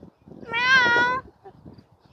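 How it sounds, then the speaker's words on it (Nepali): A cat in a park gives one clear, drawn-out meow lasting under a second, close and fairly loud, with quiet murmuring of people before and after it. "मेरो छोरीको फेभरेट क्याट"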